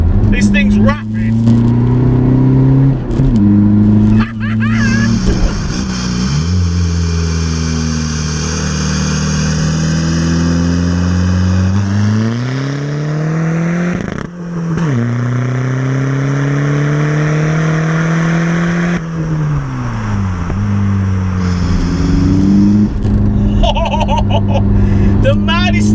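Volkswagen Golf PD diesel hot hatch tuned to 310 bhp and 500 Nm, heard from inside as the engine revs climb repeatedly through several gear changes, loud and droning, with someone talking over it throughout.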